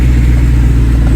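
A Citroën C15 van with a very worn engine mount drones loudly close by, its engine revving steadily under acceleration as a strong, continuous low hum with no talking.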